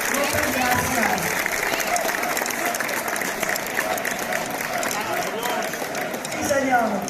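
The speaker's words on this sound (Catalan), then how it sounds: "Voldríem un fort aplaudiment per aquesta banda." Sustained applause from a festival crowd at a trobada de gegants in Moià, dense steady clapping throughout with a slight rise at the end, voices mixed in beneath.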